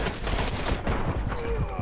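Battlefield match gunfire: a quick, loud volley of rapid shots and booms over under two seconds, dense and close, with game sound around it.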